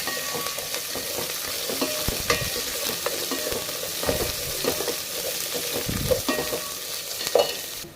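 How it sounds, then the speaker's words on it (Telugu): Onions fry in a pan toward golden brown for chicken bagara rice, a dense continuous sizzle close up with occasional stirring scrapes and no talking. "ఆనియన్స్ అనేవి brown colour golden brown colour వచ్చినంత వరకు ఫ్రై చేసుకుంటాను"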